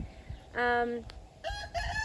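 Roosters crow close by, one long call then two more overlapping crows, with faint background noise between them.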